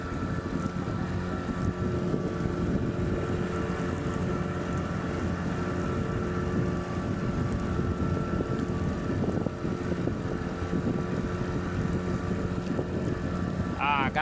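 Steady engine drone of a boat cruising on the Zambezi River, with heavy wind buffeting the microphone throughout, continuous and fairly loud, with no speech.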